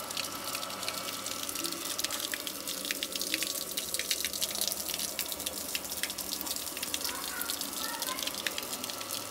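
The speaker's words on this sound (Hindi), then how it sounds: "तो अभी मेरा मोटर चालू हो गया है" A Kirloskar jet pump motor runs while water flows from a tap in a steady, dense, hissing rush with faint drips, close and continuous for the whole stretch, and someone speaks over it.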